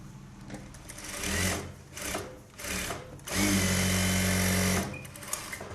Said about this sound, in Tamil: ஓரத்தில் எஜ் தையல் போட்டாச்சு